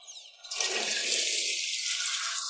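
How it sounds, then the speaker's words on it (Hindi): Water sprays steadily from a bathroom fixture, a broad continuous hiss that swells after a faint start and keeps flowing evenly throughout. "यह खुद पानी छिड़कता है।"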